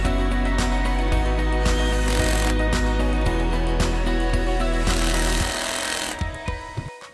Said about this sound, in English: Tighten the screws securely.